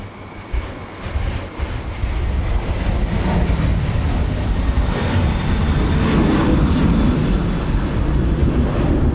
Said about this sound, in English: The 330-300 off to Manila.